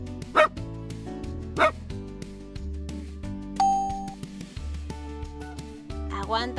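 Doggie Doo toy dachshund barking in a children's game, two loud yapping barks and later a higher bark over cheerful background music with a lingering electronic tone.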